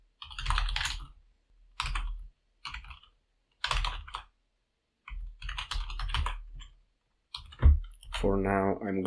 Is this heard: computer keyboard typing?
yes